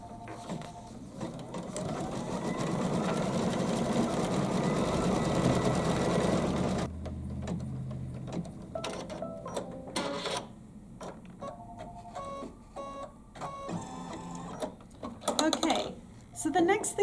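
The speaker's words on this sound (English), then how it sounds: "now I'm going to go ahead and stitch out the beak and the eyes" An embroidery machine stitches out a flamingo's beak and eyes for a Kimberbell project in a quilt shop, giving a steady, loud mechanical whir for several seconds before it stops and someone talks over faint clicks and taps.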